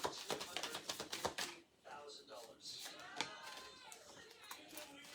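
Tarot cards are shuffled in quick, crisp riffling bursts and flicks during a Leo reading, close and clear, followed by a softer stretch under light talk.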